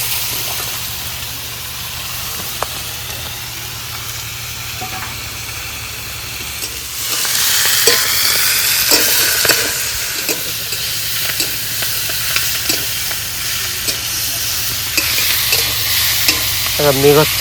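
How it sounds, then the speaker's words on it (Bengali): Vegetables being sautéed and stirred in a pan for a Bengali rohu fish dish, a steady sizzle with scraping stir strokes that grows louder and hissier about halfway through, with no talking. "ভালো করে সবজিগুলো কষিয়ে দিয়েছি"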